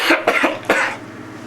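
A person coughs three times in quick succession, loud and close, with the bursts coming in the first second and then stopping.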